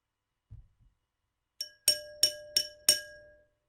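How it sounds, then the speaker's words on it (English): Wine glass tapped five times in a quick, even sequence, each strike ringing clear and bright with a short decay, preceded by a couple of soft low knocks, close and isolated. "Rubbing a wet finger on top of the wine glass isn't the only way to get a variety of sounds out of these. You can just tap it."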